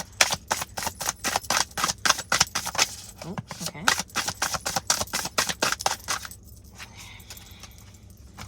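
Rapid crisp flutters of playing cards being riffled and bridged in quick bursts, close up, with a brief spoken remark in the middle.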